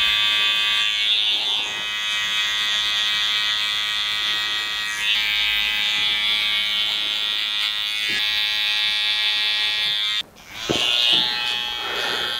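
Electric barber clippers from a super motor set hum with a steady, close, high-pitched buzz during a mid fade haircut, the tone shifting slightly as they move, with a brief dip and a clatter near the end.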